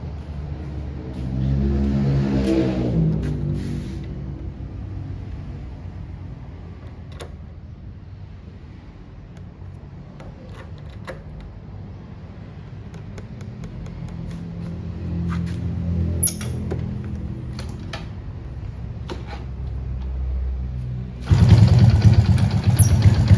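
A Honda Karisma 125 motorcycle with its engine bored to 147cc revs sharply, settles into a burbling idle, then builds louder again near the end, heard close with no speech.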